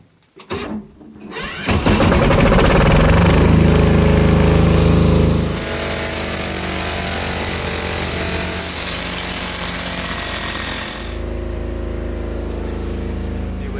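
A power drill boring holes for a hoist installation roars loudly and steadily after a short start-up, with its pitch dropping slightly partway through before running on.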